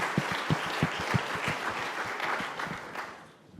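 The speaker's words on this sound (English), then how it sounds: "I think maybe another round of applause for those presentations" A live audience applauds a set of presentations at a circular-economy event in Vermont, claps ringing out sharp and dense at first, then softening toward the end.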